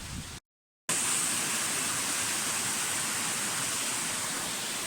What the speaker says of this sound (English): I didn't know there was another waterfall here